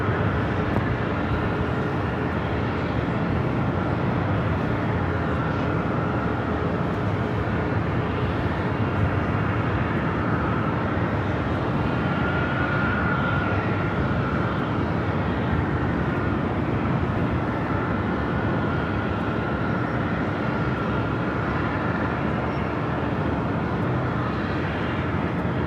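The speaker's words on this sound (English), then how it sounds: "Moss Air Cargo A330 taking off 25 left" A Moss Air Cargo Airbus A330 takes off from runway 25 left at LAX, a steady, sustained jet roar with a faint tonal whine, moderately loud and unbroken, with no voices.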